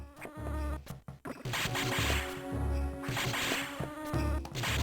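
Wasps buzz in Metroid Fusion, a steady insect drone over layered game music and effects, continuous and fairly loud throughout.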